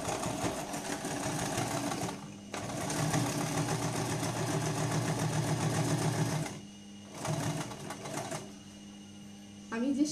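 A portable sewing machine stitches in long, steady bursts, a rapid whirring rattle with brief pauses between runs, close and fairly loud, with a voice talking over it.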